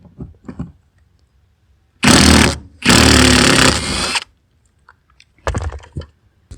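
An impact wrench removes Torx bolts from a Ford Focus ST car seat in two loud, buzzing rattling bursts, the first short and the second about one and a half seconds long, with quieter clicks and handling noises around them.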